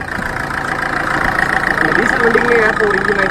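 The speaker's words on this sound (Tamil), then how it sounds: "டீசல் வண்டிக்குமே ஏற்ற ஒரு இன்ஜின் நாய்ஸ் தான் வண்டியில் இருக்குது." A 2011 Ford Figo Titanium diesel with about 1.5 lakh km on it idles with a steady, even mid-pitched engine drone, and a voice talks over the hum.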